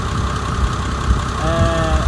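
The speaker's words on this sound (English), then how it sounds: "I've left the engine running because I'm going to have to turn the wheels" A Massey Ferguson 399 tractor engine idles steadily while the machine is washed, a low, rough diesel rumble with a faint rising whine near the end, close and continuous, no talking.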